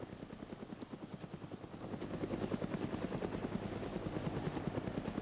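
A helicopter in DayZ Origins beats its rotor in a rapid, regular chop that starts fairly distant and faint, then grows steadily louder partway through. It carries on alone without voices.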